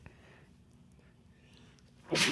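A single sudden, sharp sneeze bursts out at the very end after a stretch of quiet low room hum.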